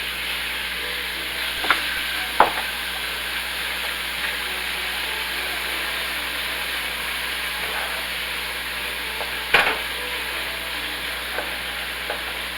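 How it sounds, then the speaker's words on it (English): Chopped chicken sizzles in hot grease in a pan. It makes a steady, close frying hiss with a few sharp clicks and pops, and no one speaks. "I'm going to add in my chopped chicken, but not all of it"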